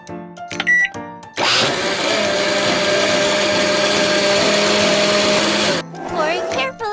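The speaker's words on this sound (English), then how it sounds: "Let's put some chocolate ice cream in the blender!" A cartoon blender in an ice cream shop game whirs steadily for several seconds as it mixes chocolate ice cream, loud and even. Short game sound effects come just before and after it.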